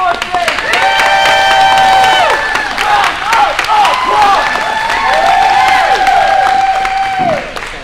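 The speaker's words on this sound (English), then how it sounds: "round of applause for Miss Morrison." An audience at a training session in Greensboro breaks into loud applause and cheering. Clapping is layered with whoops and shouted voices throughout.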